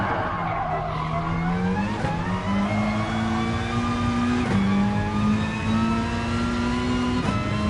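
Race car engines drone and rise together at the start of a Gran Turismo Sport daily race at Sardegna, several front-wheel-drive cars revving through gear changes with tyres scrubbing, a steady loud engine chorus without voices.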